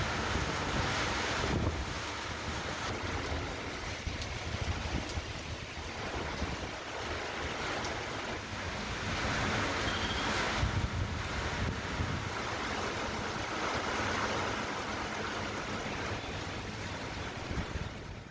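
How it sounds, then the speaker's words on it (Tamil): Strong wind gusts roar during a heavy rainstorm in the Panneerselvam Park and Sampath Nagar area of Erode. The buffeting is loud and continuous, and no one speaks. "பன்னீர்செல்வம் பூங்கா, சம்பத் நகர், வீரப்பன் சத்திரம் உள்ளிட்ட பகுதிகளில் பலத்த காற்றும் வீசியது"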